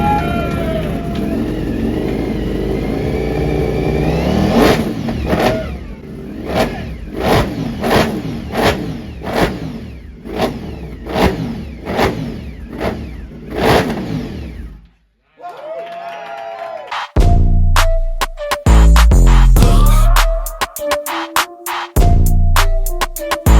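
A 2025 Ducati Panigale V4S with an Akrapovic exhaust revs repeatedly in sharp bursts over a steady idle, then cuts out before it fires up again and barks through several loud, close throttle blips.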